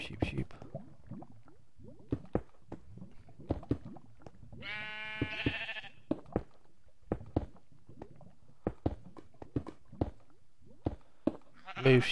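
A single drawn-out Minecraft sheep bleat rises clearly in the middle, surrounded by sharp clicks and taps from play, with a person speaking quietly nearby.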